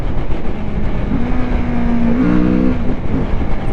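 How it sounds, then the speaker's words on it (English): A Kawasaki Z650RS motorcycle engine runs steadily while shifting without the clutch, a loud, close drone with a brief rising pitch mid-clip that then steps to a new tone. "this gives me an opportunity to test out how the bike shifts without the clutch"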